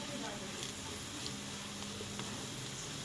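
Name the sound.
potato filling cooking in a pan with salt and red chilli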